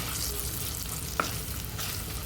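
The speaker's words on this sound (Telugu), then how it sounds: "1 స్పూన్ సోంపు, బిర్యానీ ఆకులు 2, చెక్క, లవంగాలు, యాలకులు ఇవన్నీ బాగా వేగేటట్టు మిక్స్ చేసుకోవాలి" Fennel seeds, two bay leaves, cinnamon, cloves and cardamom fry in oil for gongura chicken, producing a steady close sizzle with one brief sharp tick of a spoon midway.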